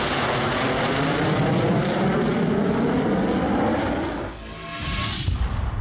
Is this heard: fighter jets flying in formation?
yes